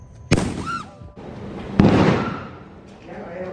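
A New Year's firework explodes nearby with a sharp, loud bang and crackling burst, followed by a second blast, while people shout and react around it.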